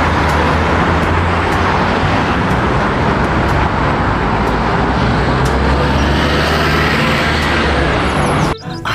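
A double-decker bus engine rumbles amid steady roadway traffic, a loud, close, continuous drone of motors with a brief drop at the end.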